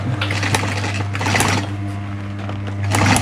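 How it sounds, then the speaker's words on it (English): A sewing machine stitches a car seat headrest for a Ford Falcon XC panel van, a close, loud, fast mechanical whirring rattle running steadily with short pauses, no talk. "I'm just tightening up the stitch line a little bit."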